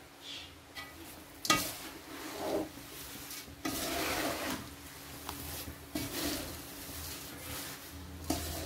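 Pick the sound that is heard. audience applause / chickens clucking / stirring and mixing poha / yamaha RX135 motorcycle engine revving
stirring and mixing poha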